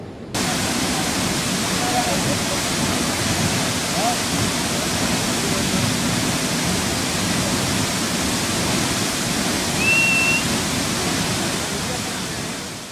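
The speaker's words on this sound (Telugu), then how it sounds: "చాలా అందమైన వాటర్ ఫాల్ ఇది." Steady, dense roar of a waterfall, loud and unbroken throughout, like heavy rushing water, with only faint traces of other sound.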